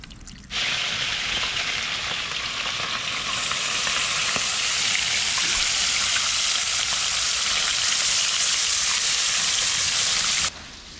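A steady, loud bubbling hiss from a pot of anlalasan fish soup at a rolling boil, continuous for about ten seconds with no talking.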